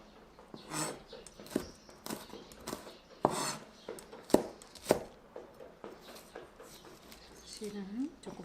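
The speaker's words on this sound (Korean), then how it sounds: "고추도 같은 방법으로 썰어 줄게요" A knife chops chili peppers on a cutting board in a kitchen, giving sharp, irregular taps up close. Someone talks quietly over the chopping.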